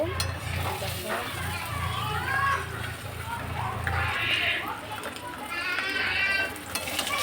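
Fish frying in a pan: a steady, close sizzle with occasional scraping and stirring, while voices chatter in the background.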